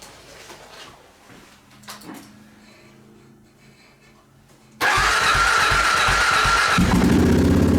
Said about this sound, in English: Oh, and of course the KLR 650, it's bloody sitting right here. I actually cranked it up.